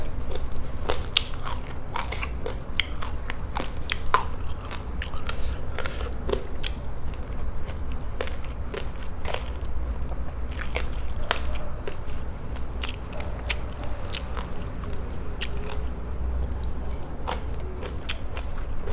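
Someone bites and chews crispy fried tilapia close up, with repeated crunchy crackles in an irregular rhythm throughout and no talking.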